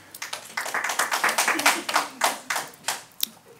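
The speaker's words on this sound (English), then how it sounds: "Hear that clapping again." A few people clap at a school board of education meeting, sharp separate claps in an uneven rhythm with some voices heard alongside, close and fairly loud before tapering off.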